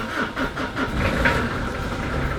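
Diesel engine of an abandoned Citroën XM, laid up since 2023, cranking with rhythmic starter pulses, then catching and settling into a rough running rumble, close and loud with no voices.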